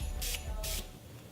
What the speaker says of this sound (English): So I sprayed it all over my hand more than the sponge.